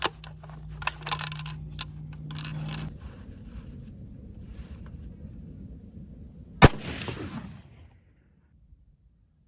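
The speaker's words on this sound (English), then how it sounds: "I'm gonna shoot another one." A single sharp rifle shot cracks out at an outdoor range while a rifle is being zeroed on a target, standing alone after some quiet handling noise and followed by a short decaying tail before silence.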